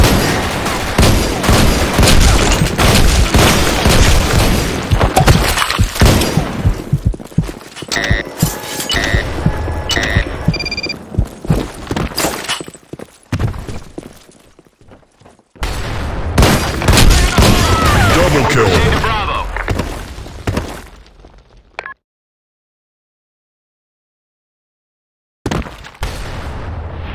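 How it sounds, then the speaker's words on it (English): Grenade explosions and dense gunfire from a shooter video game mission come as loud, overlapping booms and rattling bursts, with voices at times, a quieter stretch midway, and a few seconds of silence before the noise resumes. "Grenade."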